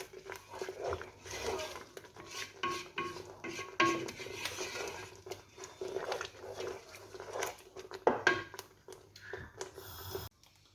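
A spoon scrapes and clinks in a pot of mango sauce with apple cider vinegar, stirred in irregular bursts up close at a modest level, with a final sharp clatter near the end.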